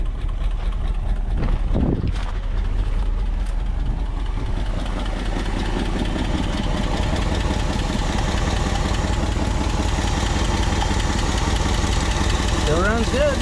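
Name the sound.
1962 Ford Galaxie engine idling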